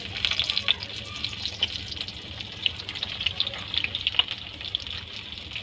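Chopped onion sizzling in hot mustard oil with cardamom, a steady bright crackle and hiss with scattered pops, fairly soft and close, without talk.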